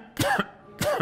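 Two short, rough coughs from a man during an interview, close to the microphone and spaced about half a second apart.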